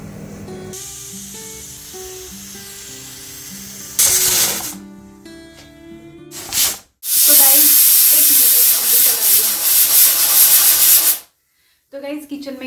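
Onion and garlic tempering hits hot mustard oil for a sarson ka saag, bursting into a loud, close, continuous hissing sizzle that runs for several seconds after a quieter stretch of background music.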